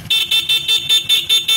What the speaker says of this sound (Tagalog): So gumagana yung stock horn niya.